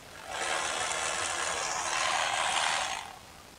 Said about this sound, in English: I do love this Milwaukee ratchet.